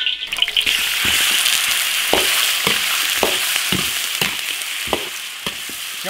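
Duck pieces are stir-fried dry in an iron wok, with a loud, continuous sizzle broken by regular scraping strokes of the turner against the metal.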